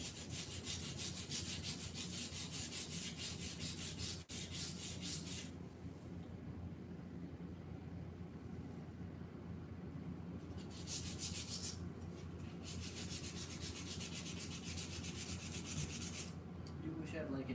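Sandpaper rubbed by hand over a smooth surface, a steady close scratchy hiss with a brief pause and shifts in intensity, no talking.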